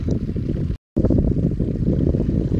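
Strong wind buffets the microphone out on Truman Lake, a loud, continuous low roar with constant gusty rumble, broken only by a brief cut of silence.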